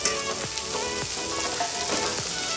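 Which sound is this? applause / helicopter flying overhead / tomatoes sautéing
tomatoes sautéing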